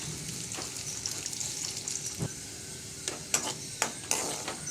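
Sliced small shallots (three or four) frying in a pan for a carrot and green bean thoran, a soft steady sizzle with scattered crisp spits and crackles that grow busier toward the end, no talking.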